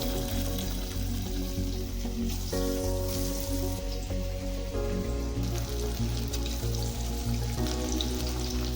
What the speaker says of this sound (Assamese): এয়া তেল গৰম হৈ গ'ল। এয়া মই চিকেন দিছোঁ